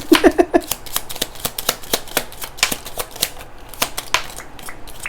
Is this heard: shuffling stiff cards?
yes